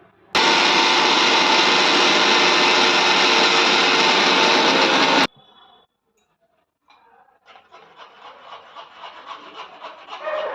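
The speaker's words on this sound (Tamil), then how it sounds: "இது இப்போது நல்லா மிக்சியில் நைஸாக அரைச்சி எடுத்துக்கலாம்" A mixer grinder blending sliced mango runs loud and steady for about five seconds, then stops abruptly, followed by quieter scraping and handling sounds.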